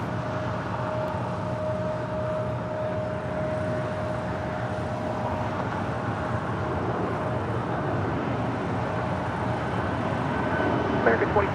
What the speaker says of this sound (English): United Airlines Flight 2373 heading to Kona. 737 MAX 9 already rolling down 25 right.